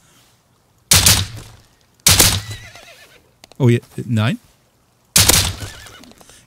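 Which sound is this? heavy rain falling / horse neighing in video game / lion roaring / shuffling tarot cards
horse neighing in video game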